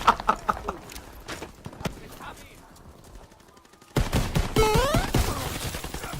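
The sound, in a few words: jumping shotgun fire in a video game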